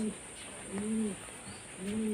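Madras pigeons, a Phulsira Madras pair, give a few soft, low cooing calls in slow repeated phrases, faint and close, over a steady high background hiss.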